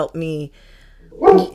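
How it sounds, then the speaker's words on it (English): Household dogs bark indoors, with a sharp burst at the start and another near the end separated by a quiet gap, loud and close during a sales call. "sorry about the dogs."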